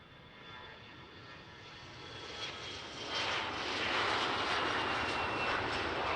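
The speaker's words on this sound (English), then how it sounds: "enjoy this Air Nostrum CRG 1000 going back to Madrid" Air Nostrum CRJ1000 regional jet departing from runway 36L at Amsterdam Schiphol Airport, its engine whine and roar building from moderate to loud as it passes close, with no talking.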